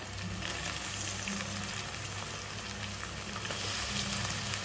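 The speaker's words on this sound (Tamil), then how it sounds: "போட்டு நல்லா வதக்கணும்." Onions and tomatoes sautéing in a pan with ginger-garlic paste, a soft, even frying hiss running throughout at low level, with no voices.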